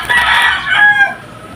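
A rooster crows once near a backyard chicken pen. The call is loud and close, with a rising-then-falling tone lasting more than a second, and no talking is heard.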